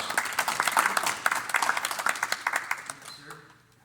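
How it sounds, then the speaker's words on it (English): An audience at a monthly community meeting with a medical training session gives a round of applause, a quieter scattered clapping that thins out and fades toward the end. "let's give him a nice round of applause"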